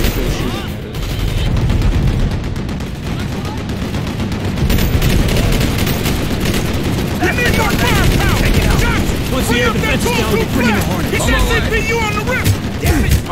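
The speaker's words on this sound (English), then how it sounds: "There's like three guys with AKs that shooting at us" AK rifles fire in a video game firefight: loud, rapid bursts and overlapping volleys that run continuously while several voices shout over the shooting.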